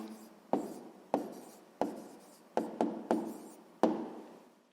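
Pen strokes and taps on paper as an answer is written down by hand, several short sharp marks spaced irregularly over soft scratching, close and quiet.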